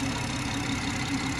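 A BMW 340i M Sport Shadow Edition Touring idles steadily with its bonnet open, a smooth, even engine hum with a low rumble, heard close and continuous with no talk.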